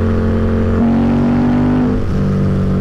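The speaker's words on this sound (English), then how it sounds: "Yeah, you want to rev this thing" A custom Harley-Davidson V-Rod engine revs hard, pitch climbing sharply for about a second before dropping back to a steady drone, loud and close with a constant rumble underneath.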